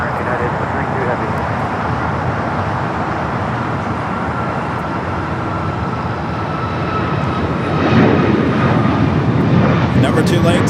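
Jet aircraft at Los Angeles airport during takeoff, a loud continuous roar with broadband rumble that swells near the end as the plane powers up, heard alongside a talking voice.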